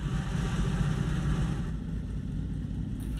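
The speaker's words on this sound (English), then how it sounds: "Engine." A tank engine in the video game Post Scriptum rumbles steadily with a low, dense drone, dropping slightly in level midway as if throttling down, with a brief sharp noise at the very end.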